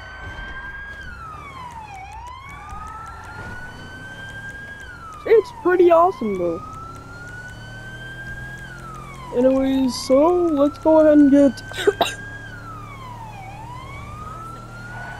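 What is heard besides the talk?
police siren in video game GTA 5, higher pitch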